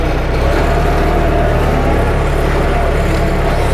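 A forklift is driven at close range, its engine a loud, steady low drone that runs unbroken throughout.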